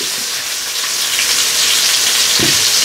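Salisbury steak patties searing in a skillet on an induction heater, a loud, dense, rain-like sizzle holding steady with a couple of soft low knocks.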